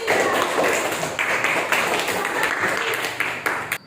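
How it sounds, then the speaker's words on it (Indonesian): A school class claps for a presenting student group during a problem-based learning lesson, a dense, steady patter of many hands close by that thins slightly toward the end, with faint voices underneath. "tepuk tangan dulu dong untuk kelompok 3"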